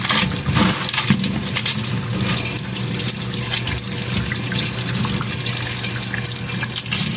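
Tap water runs steadily into a sink while a steamer is washed, a continuous close splashing rush with faint clinks of metal, no speech.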